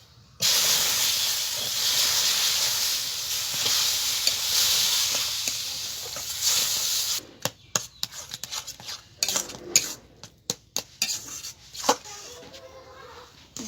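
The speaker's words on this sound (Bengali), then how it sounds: "এখন আমি অল্প অল্প দুধ দিয়ে আবার নাড়তে থাকবো" Semolina fried in ghee gives a loud, steady hissing sizzle; milk is then poured in bit by bit while stirring, which brings irregular scrapes and clinks of a spoon against the pan.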